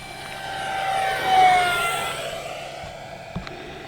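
An RC F-18 model jet with an electric ducted fan makes a full-throttle pass, a rising whine that swells to a peak as it goes by, then fades, with a brief knock near the end.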